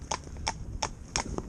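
Fell pony cross trotting uphill, hooves clip-clopping in a steady quick rhythm of close, crisp strikes, with no other sound over them.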